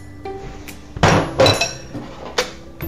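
Potato pancake batter being mixed in a bowl, with spoon knocks and clinks against the dish coming in a few sharp bursts over a low background.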